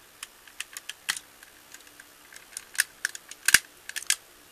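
Transformers SoundBlaster toy figure joints being worked, giving a run of sharp, close, irregular clicks and ratchety snaps, some clustered together, with no voices.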